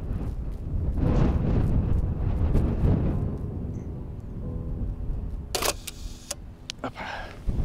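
A Mamiya RB67 medium format film camera fires its shutter outdoors on a windy, sandy walk, a single sharp mechanical clack standing out against steady, buffeting wind noise.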